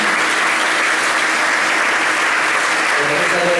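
A full room at an industry awards night claps loudly and continuously, a thick unbroken roar of applause, with a voice faintly audible near the end.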